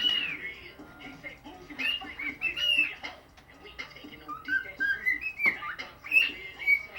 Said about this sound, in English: This bird is whistling Andy Griffin.